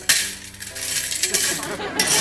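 Coins clink and clatter steadily as they are flipped over with tools during a coin-collecting session, with dense metallic rattles and taps close by and no talking.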